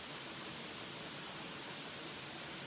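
Stream water flows steadily at a campsite, a constant close, even rushing hiss with no breaks or other sounds.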